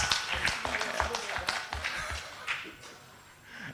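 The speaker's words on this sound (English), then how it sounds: "I would like to give a big applause to the speakers in here." Scattered clapping from a small audience at a book launch, uneven and moderately quiet, fading over a few seconds as it thins out.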